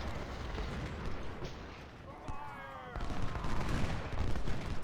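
Volleys of 20-pounder cannon fire at point-blank range in a Fredericksburg battle game. Bursts of booming shots and crackling musketry are fairly quiet and continuous, with a brief tonal call of voices in the middle.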